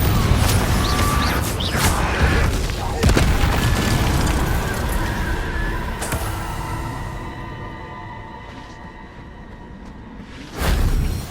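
A Confringo fire spell in Hogwarts Legacy detonates with a loud booming blast and rushing whoosh, rumbling and fading over several seconds before another burst near the end.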